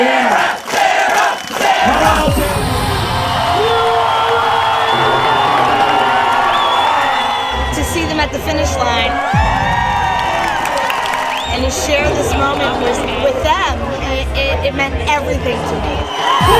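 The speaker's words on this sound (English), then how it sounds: "With just a mile to go, Sarah can hear the crowds at the finish line." A large crowd cheers and shouts at a triathlon finish line, a loud, continuous roar with whoops and yells rising and falling throughout.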